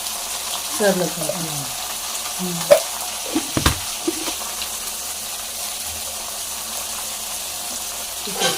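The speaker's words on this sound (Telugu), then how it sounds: "కూర తాలింపు ఇట్లా స్మెల్ రావాలి బాగా" Curry tempering sizzles in a pan in a village kitchen, a steady close frying hiss broken by a few sharp clinks and scrapes of a utensil.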